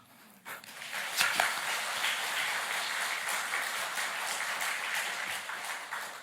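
A church congregation at a Sunday service claps together, a soft, distant and sustained patter that swells in after a brief quiet start and holds steady.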